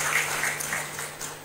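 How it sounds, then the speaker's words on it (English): Audience applause after a speech at a formal public event, a steady wash of clapping filling the whole short stretch at moderate loudness with no voices over it. "another round of applause for them"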